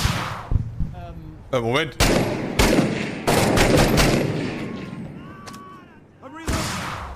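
Heavy gunfire and explosive blasts from the war game Six Days in Fallujah hit in loud, abrupt bursts, mixed with whistling effects and several brief spoken words.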